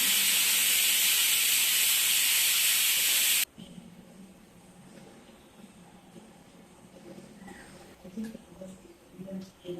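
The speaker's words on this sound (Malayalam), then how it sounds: "ഈ ഒരു വിസിലോടുകൂടി നമ്മുടെ കുക്കർ ബിരിയാണി റെഡി." A pressure cooker full of biryani vents steam in a loud, steady hiss for about three and a half seconds, then cuts off abruptly, leaving quiet kitchen background with faint movement.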